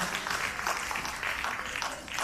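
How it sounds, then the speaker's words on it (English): An audience at a Knights of Rizal commanders' ball gives its guests a round of applause: steady, dense clapping from a crowd, fairly close and filling the whole moment. "Let's give them a big round of applause"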